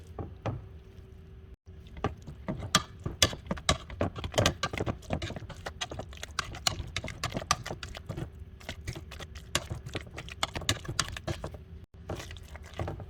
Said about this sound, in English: I'm going to start mashing them until they're totally creamy